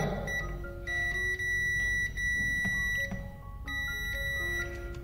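Steady electronic beeping from a multimeter's continuity buzzer, sounding as the probes meet across a wire, in several sustained tones with short breaks, close and clear, with no speech.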